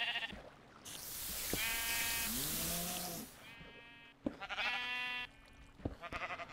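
Minecraft sheep bleating in a game world, several wavering bleats in a row, each a drawn-out nasal baa, fairly close and loud with brief gaps between calls.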